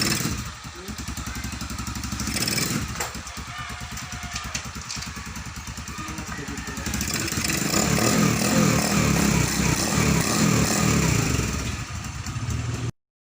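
Yamaha X1 motorcycle engine, rebuilt after a carburetor fault, running close by, a steady rumbling idle that rises into harder revving partway through before cutting off abruptly.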